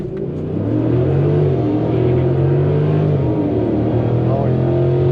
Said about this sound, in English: Give it a little bit of gas, inch forward.